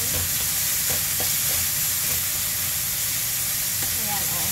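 Food frying in a pan for shepherd's pie, a steady close sizzle and hiss with soft stirring scrapes and clinks throughout, no talking.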